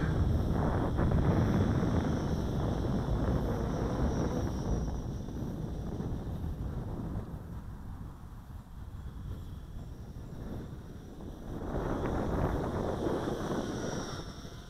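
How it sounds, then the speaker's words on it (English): Strong wind rushes and buffets the microphone throughout, surging loud at the start and again near the end, with no voices. "A little too windy for it."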